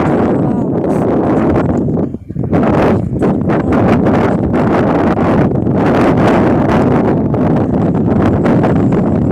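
Loud, steady wind roars and buffets the microphone with a rough broadband rush, easing only briefly for a moment before gusting back at full strength.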